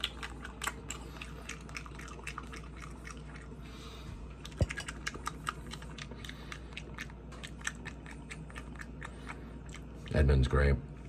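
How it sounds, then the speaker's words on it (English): Food is chewed close to the microphone during a mushroom snack, giving a string of crisp crunchy bites and wet chewing clicks. A short burst of louder noise comes near the end. "I'm chewing in your ear"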